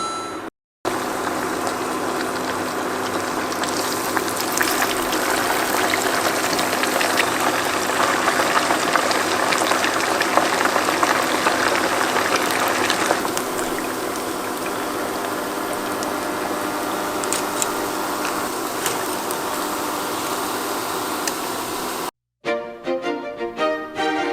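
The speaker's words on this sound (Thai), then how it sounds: "ขั้นตอนต่อมาก็คือเอาไปทอด" Thinly layered potato deep-frying in hot oil, a steady dense bubbling hiss that runs almost unbroken, easing slightly in the later part before cutting off near the end.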